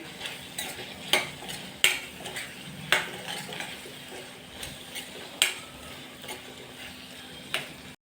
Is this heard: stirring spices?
yes